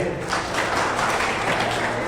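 Students at a career seminar applaud Saritaben. The clapping is a soft, continuous patter of moderate loudness that lasts throughout.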